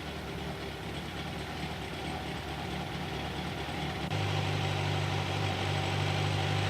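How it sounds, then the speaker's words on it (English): A 1991 Kawasaki Ninja ZX-7 four-cylinder motorcycle with carburetors, engine idling steadily and close up, a constant low hum that grows slightly louder and deeper partway through, with no talk. "Now start the engine and let it idle to measure intake vacuum."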